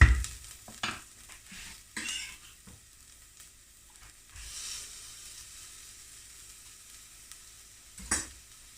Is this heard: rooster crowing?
no